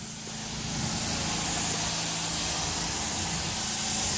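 A Steam Action carpet cleaning unit sprays and hisses steadily as it works commercial office carpet, a loud continuous spray that builds in the first second, with an engine hum underneath and no talking.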